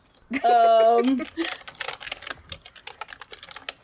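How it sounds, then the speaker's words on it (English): Computer keyboard typing, a run of quick clicking keystrokes running steadily through the whole stretch, partly under a burst of speech and a tonal sound near the start. "Please keep that clickety-clacking."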